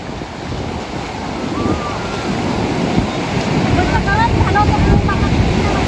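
Sea waves roll and break on the beach at Puri in a continuous loud wash, heavily buffeted by wind against the microphone, with voices faintly present.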